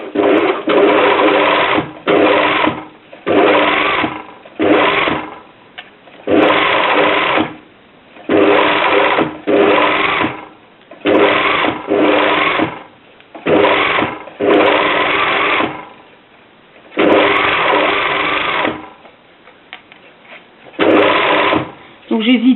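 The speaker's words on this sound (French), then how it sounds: "je vais coudre à la largeur de mon pied de machine, donc 7 mm" A domestic sewing machine stitches invisible bias binding in repeated short bursts of steady whirring, each a second or two long and separated by brief pauses, fairly close and loud.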